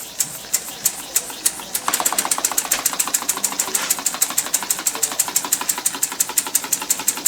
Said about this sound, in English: That little Dynamo is quite a load for this little engine.